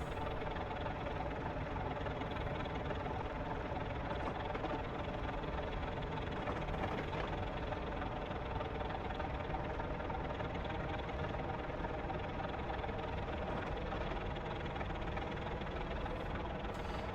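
A railway locomotive working under a light throttle on the Settle to Carlisle line gives a steady, continuous low engine drone with a constant rumble, unbroken throughout and with no talking over it.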